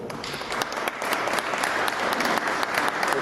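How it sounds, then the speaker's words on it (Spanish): Sustained audience applause at a technical talk on inspection units for distributed generation interconnection, dense steady clapping from a room of people lasting throughout. "Un aplauso, por favor."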